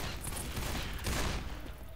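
Gunfire in the Left 4 Dead 2 video game is a dense, loud burst of rapid shots filling the whole moment, with no talk over it.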